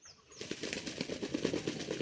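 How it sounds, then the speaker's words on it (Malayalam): A peacock fans and shakes its tail feathers, making a continuous dry rustling rattle close by that swells just after the start and runs steadily to the end, with no voices. "ഒന്നിങ്ങനെ മയിൽ പീലി വിടർത്തി ആട്"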